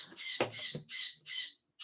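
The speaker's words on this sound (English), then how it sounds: "She's got a noisy bird like I do." A noisy pet bird squawks indoors, giving four or five harsh, evenly spaced calls close by, with a couple of brief low knocks between the first calls.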